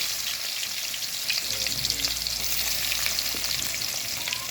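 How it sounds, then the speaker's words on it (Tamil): Cumin, ginger and garlic frying in hot oil give a dense, even crackling sizzle, close and steady, with faint stirring scrapes. "எண்ணெய் காஞ்சிட்டு சீரகம் சேர்த்துருக்காங்க இஞ்சி பூண்டு சேர்த்துருக்காங்க"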